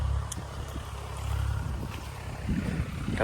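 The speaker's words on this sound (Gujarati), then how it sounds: "રોટાવેટર ખેડવાનું ચાલુ છે આંબામાં" A tractor drives a rotavator through the soil of a mango orchard, giving off a steady, close low engine rumble with a churning, wind-like rush and no speech.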